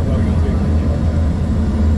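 A Loganair Embraer E145 regional jet landing at Aberdeen, heard from the cabin as a steady, loud low engine and airflow roar that holds constant throughout.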